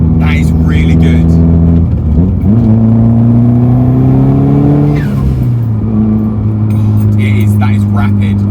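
Nissan Pulsar GTiR car accelerating hard through the gears, a loud close engine note rising in pitch with brief drops at the shifts, sustained throughout with someone talking over it.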